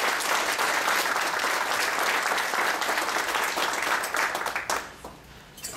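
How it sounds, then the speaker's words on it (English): Audience at a diplomatic dialogue event gives steady, dense applause for several seconds before it thins out and tapers off at the end. "I think they deserve a round of applause,"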